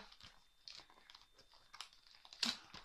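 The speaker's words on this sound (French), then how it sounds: "du chocolat qui craque" Quiet, close chewing of crunchy chocolate with a few crisp crunches, ending in a sharper crackle near the end.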